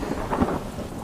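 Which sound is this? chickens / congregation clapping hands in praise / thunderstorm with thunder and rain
thunderstorm with thunder and rain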